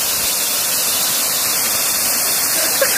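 Steady broadband roar of a waterfall pouring into a shallow pool, a close, continuous rush without pause.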